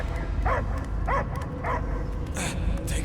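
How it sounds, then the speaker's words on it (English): A dog barks in the Marvel's Guardians of the Galaxy video game, four or five evenly spaced barks and yips at moderate distance over a low, droning game soundtrack. "I hear only barking."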